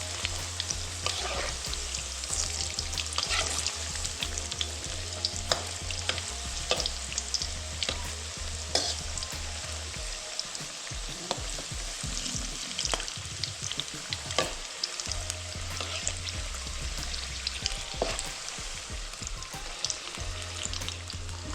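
Sweetcorn fritters (bhaji) frying in hot oil, a steady, loud crackling sizzle with scattered pops running continuously, alongside a low intermittent background hum.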